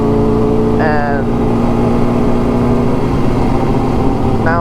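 Car engine idling steadily with the mid pipe and muffler refitted to its exhaust, a continuous low rumble throughout, with brief spoken words over it near the start and end.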